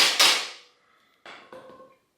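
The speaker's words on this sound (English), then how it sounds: "And so now I can tap this in" A bottom bracket part on a vintage Peugeot bicycle being tapped into place: one sharp, ringing metallic knock that fades, then two lighter taps after a short pause, close and alone.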